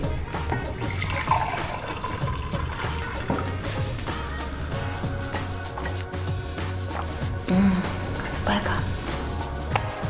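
Steady running water flows continuously from an office water filter, with faint voices and background clatter in the room.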